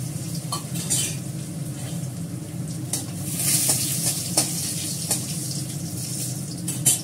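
Garlic paste fries with black cumin seeds in hot oil, a steady sizzle with occasional louder crackles and utensil clinks from stirring.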